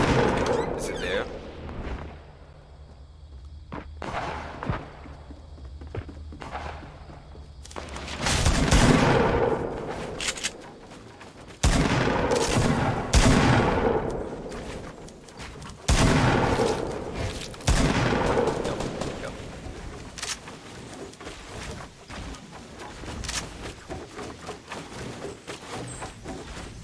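Video game gunfire erupts in bursts of sharp shots and booming blasts, some rapid and clustered, others spaced apart, loud and close over the game's background sound.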